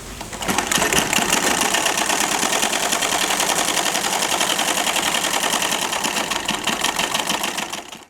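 A sewing machine runs a straight stitch along the seam of an Aligarh pyjama, a fast, even mechanical whir held close and loud for several seconds before it stops.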